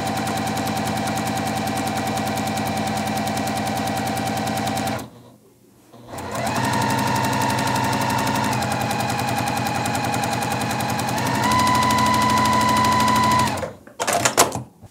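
A sewing machine runs steadily while stitching a long strip of quilt fabric for a churn dash block, one brief pause midway before the fast, even whirring resumes and stops near the end.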